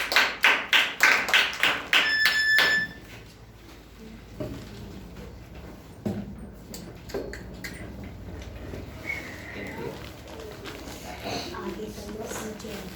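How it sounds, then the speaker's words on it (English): Sharp, evenly spaced claps ring out close by, about seven in quick rhythm, at a storytelling competition, then give way to quieter room noise and scattered taps. "So well done, clap for Arya."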